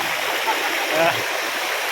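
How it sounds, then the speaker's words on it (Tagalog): A river flows steadily past, a broad, even rush of water heard close and continuous along a bike loop around Banahaw, with no voices over it. "Dito, nadaanan kami ilog."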